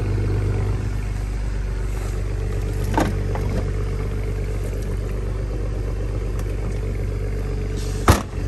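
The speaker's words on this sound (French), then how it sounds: "Et ça chantonne bien, échappement d'origine." A Japanese car with its original exhaust idles and runs nearby, a steady low engine hum with a soft burble and a couple of brief clicks or clunks, and a sharp knock near the end.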